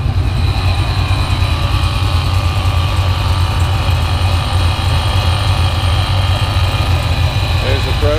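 A car engine idles after a remote start, a steady low rumble running loud and unbroken throughout, with a faint voice-like sound near the end.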